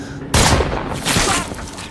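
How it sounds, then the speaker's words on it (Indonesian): Gunfire in a war film scene set around an Iraqi sniper and American soldiers: a sudden loud burst of shots after a brief quiet, followed by a second volley and sustained rumbling noise. "Beberapa tembakan pun sempat menyasar ke arahnya"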